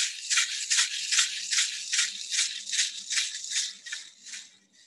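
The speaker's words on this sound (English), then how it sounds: "Here's my shaker. It's got beads in it. The beads go up and down. And when I shake it, it goes like this." Bead-filled hand shaker rattled in a steady rhythm, about two shakes per second, with bright swishing bursts, close and fairly loud with no talking.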